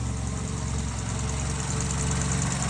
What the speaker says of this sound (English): So idle's quiet.